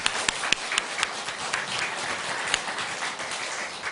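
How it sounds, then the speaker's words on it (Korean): A church congregation on Easter applauds together, a dense wash of clapping with a few sharper individual claps standing out, steady for several seconds with no talk over it. "부활하신 예수님께 박수로 영광을 돌리겠습니다"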